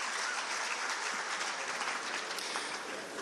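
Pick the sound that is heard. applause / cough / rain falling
applause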